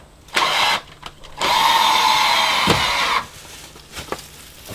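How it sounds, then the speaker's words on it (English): A power drill drives a screw home into wood framing in a woodshed, with a short burst, then a sustained whirring run of about two seconds, then quieter knocks. "I've already started screwing this, so now all I got to do is just drive it home"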